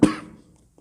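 One short, sharp cough bursts out and quickly fades, with nothing else following it.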